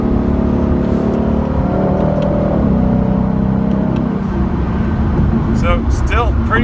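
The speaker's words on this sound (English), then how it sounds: "so you hear downshifting." A 2018 Ford Mustang GT Premium V8 with active exhaust runs steadily from the cabin as the automatic transmission downshifts while driving, the engine tone shifting pitch. Someone talks over the engine throughout.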